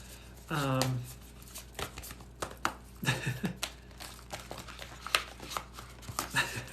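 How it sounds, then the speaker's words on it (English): A deck of reading cards is shuffled during a spring equinox channeled reading: a run of crisp flicks and soft crinkly riffles, near and fairly quiet, with a brief voice at the start. "I'm going to shuffle the cards as well."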